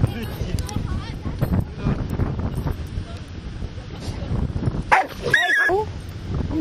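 A dog barks a few times on a sandy beach at Spanish Banks in Vancouver, mixed with wind noise and people talking nearby.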